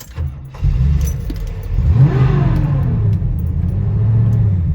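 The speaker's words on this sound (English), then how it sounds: "We'll do a startup. Now, I've been driving it a little bit, so it'll start right up" A 1972 Buick Riviera engine cranks and catches after a brief jingle of keys, then settles into a loud, close, steady low idle rumble.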